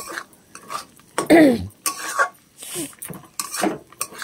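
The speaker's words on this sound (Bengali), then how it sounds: "গ্যাসটাকে কমিয়ে আমি ভালো করেই নাড়াচাড়া দিচ্ছি" Mixed vegetables fry in a pan over low gas while a utensil stirs and scrapes them in irregular strokes, with soft sizzling and metallic clinks close by.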